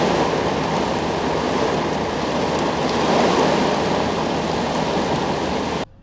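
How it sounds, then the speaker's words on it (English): A river rushes past outdoors, close to a parked van: a loud, steady wash of flowing water with no voices, which stops abruptly just before the end. "It's just a river."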